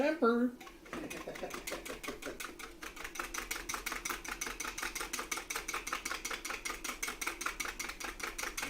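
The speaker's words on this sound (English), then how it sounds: "Give these a quick little whisk." Eggs whisked quickly in a bowl for tempering, producing a fast, steady run of rhythmic clicking taps, close and fairly loud, after a brief spoken phrase at the start.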